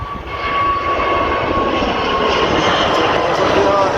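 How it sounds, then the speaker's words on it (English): A Transavia Airbus A321 roars loudly as it takes off, a sustained broadband jet-engine rumble with a whining tone, steady and close throughout, with people talking over it. "Transavia Airbus A321."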